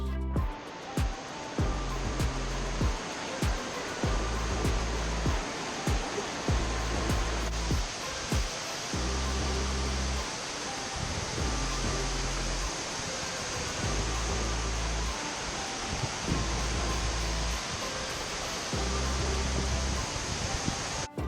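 A huge waterfall at the end of a Kauai hike in Hawaii roars as a dense, steady rush of falling water, loud and unbroken, with occasional low wind buffets over it.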